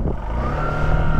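A Honda Shine 100 motorcycle with a new 99cc engine pulling away in first gear, its steady engine drone rising slightly in pitch as it accelerates, close and fairly loud with no talk.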